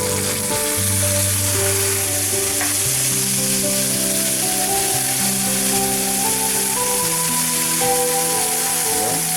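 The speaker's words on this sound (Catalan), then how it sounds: "I ara hi afegim el vi blanc." Pig's trotters sizzling loudly in a hot frying pan as white wine is poured in, a steady, dense crackle of frying and bubbling that continues without pause and with no talk.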